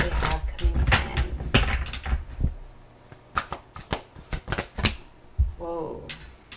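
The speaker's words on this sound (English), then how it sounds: "We're going to keep going here and shuffle it some more" Tarot cards are shuffled nearby in quick riffling bursts and taps, with irregular pauses between handfuls; a voice briefly murmurs near the end.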